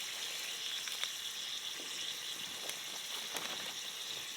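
Onion and butter sizzling in a camp pan outdoors, a faint steady hiss with scattered small pops and crackles, no talking.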